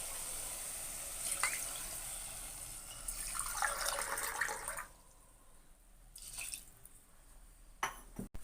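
Water pours steadily onto basmati rice in a pot for biryani, a soft rushing splash building then easing off, with brief drips and clinks around it and no talking.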